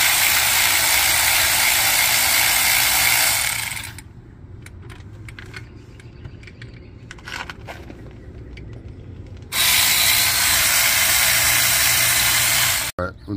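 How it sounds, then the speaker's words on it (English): Ratchet clicks and clatters while removing the 13 mm brake caliper bolts from a Saturn Outlook or Chevy Traverse in a home garage, with two loud sustained bursts of ratcheting and quieter tool handling between them. "I'm gonna take the caliper off."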